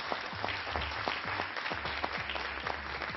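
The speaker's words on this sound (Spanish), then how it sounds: "Señoras y señores, un aplauso," Audience applause at a Spanish-language debate show, a dense patter of many hands that runs throughout with sharper individual claps poking through, moderately loud and without talk over it.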